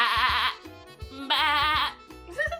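A person imitates a sheep, voicing two loud, wavering bleats separated by a short gap, with a steady low backing beat running underneath.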